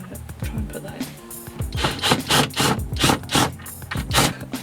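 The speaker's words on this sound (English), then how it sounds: "I tried to cheat by screwing a screw in instead of drilling a hole, but it doesn't seem to be working" A screw being unscrewed from a wooden board during a camper van upgrade gives a run of rhythmic, rasping squeaks and scrapes that grow louder toward the end, with faint background voice-like sounds.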